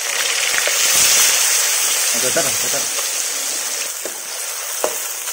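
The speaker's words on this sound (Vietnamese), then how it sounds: "Bây giờ mình sẽ chiên chả" Vietnamese meat cakes (chả) frying in a pan give a steady loud sizzle and crackle with scattered pops, while someone talks over the cooking.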